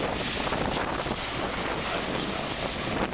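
Gusty wind at Dublin Airport makes a steady, loud broadband roar that buffets the microphone throughout, with no voices over it.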